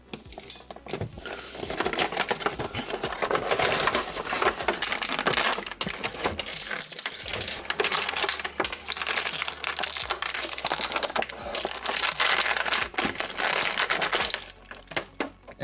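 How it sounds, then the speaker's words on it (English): A Jazwares Call of Duty MWII Simon Ghost 1/12 scale action figure being unboxed: steady crinkling, crunching plastic packaging and rustling, close and loud throughout with clicks, no talking. "let's do the unthinkable and unbox this figure"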